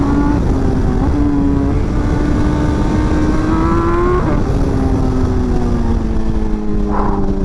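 A 2024 BMW M1000XR sport motorcycle with variable valve timing revs hard, its engine note climbing steadily, dropping briefly, then rising again, loud and close with no talk.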